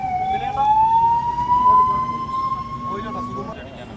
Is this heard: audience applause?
no